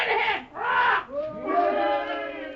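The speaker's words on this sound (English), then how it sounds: "Listen, cheering." A crowd of men cheering in the distance near a mine, a sustained swell of many voices that rises, dips and surges again with shouting bursts over several seconds.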